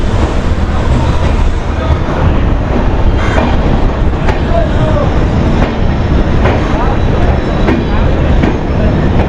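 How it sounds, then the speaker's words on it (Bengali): The Sairang Express pulls out of Kolkata station's platform 3, a loud steady rumble of rolling carriages with rhythmic clicking of wheels over rail joints and wind buffeting throughout. "একদম নির্ধারিত টাইমে কিন্তু আমাদের ট্রেন ছেড়ে দিয়েছে কলকাতা স্টেশনের 3 নম্বর প্ল্যাটফর্ম থেকে সাইরাং এক্সপ্রেস"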